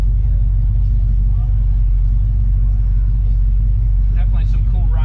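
Show cars rolling out of a car show in Geneva, Florida, giving a loud, steady low engine rumble throughout, with a brief brighter rev toward the end.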